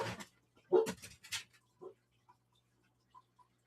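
A dog barks and yelps in a quick burst of several sharp, fairly close barks, followed by fainter scattered short sounds that trail off into quiet.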